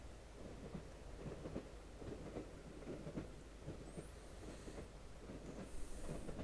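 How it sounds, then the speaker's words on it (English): Train rumbling steadily along the tracks in the horror adventure game The Last Door, a continuous low clattering rumble with rhythmic bumps of the wheels, close and even throughout. "Train bumps. I'm on the train."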